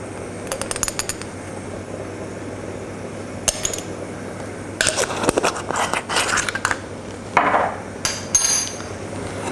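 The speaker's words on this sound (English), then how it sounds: "we're going to keep on whisking that until it forms a paste" Butter and plain flour roux with a pinch of nutmeg being whisked in a pan, heard as irregular metallic scraping and clinking bursts that grow busier and louder toward the end, with no talking.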